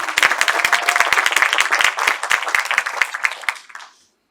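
An audience at an honouring ceremony for a legendary musician breaks into lively applause, with dense overlapping hand claps and a few scattered cheers. The clapping fades out near the end.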